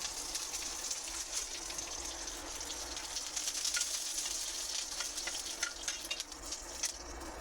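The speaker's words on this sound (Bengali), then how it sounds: "কারি পাতা ফোড়ন দেব" Curry leaves hit hot oil as a tempering for dhokla, making a dense, steady crackling sizzle with quick pops throughout, close and fairly loud with no talking.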